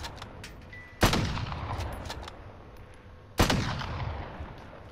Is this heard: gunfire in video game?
yes